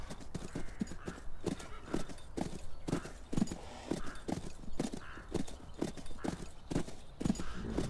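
Steady, rhythmic clip-clop of horse hooves at a brisk pace in the game Call of Juarez: Bound in Blood, continuous and fairly close, with no talking.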